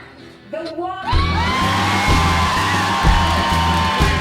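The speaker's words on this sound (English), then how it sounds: "The room just erupted with emotion, and we all were super proud and just screaming" A room full of people at an awards night erupts in whoops, yells and cheers as Game of the Year is announced, rising suddenly from quiet into loud, sustained crowd noise with a steady thumping beat underneath.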